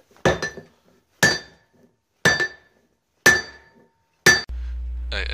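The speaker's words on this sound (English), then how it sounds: "we're gonna have to put it on the horn of the anvil and hit it down" A hammer strikes a steel hatchet on the horn of an anvil in a forge, five sharp ringing blows about a second apart, loud and close, followed by a steady hum.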